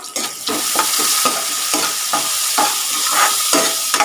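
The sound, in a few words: stirring sliced onion with salt frying in a pan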